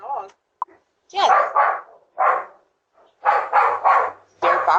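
Several dogs barking in short bursts, loud and close, with brief pauses between the barks.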